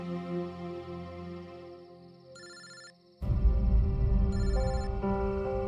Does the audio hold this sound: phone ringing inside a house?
yes